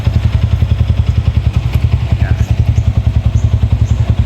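A motorcycle engine warming up at idle in the morning, a loud, steady rhythmic putter that stays close and continuous with no talking.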